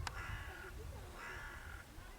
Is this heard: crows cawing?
yes